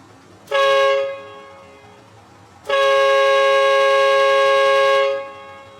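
Two loud blasts from a dual train air horn kit, a short toot followed by a long sustained blare, with quiet background between them.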